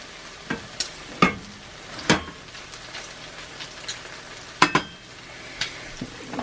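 Bacon grease sizzles quietly in a hot cast iron skillet, a soft steady crackle broken by a few sharp clicks and taps of a utensil against the pan.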